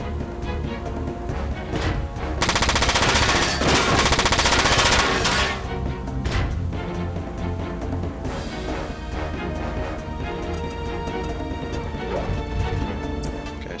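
Mechs trade heavy machine-gun fire in Front Mission 4, dense rapid bursts with a loud sustained barrage in the middle and scattered impacts and crashes after, with no voices.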